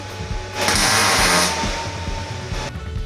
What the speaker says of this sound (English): we're going to be welding the outside corners first